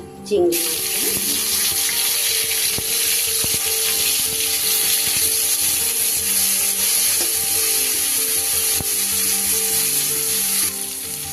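Prawns fry in oil in a wok, giving a loud, steady, continuous sizzle with a dense hiss that runs unbroken from start to finish after a brief quiet onset.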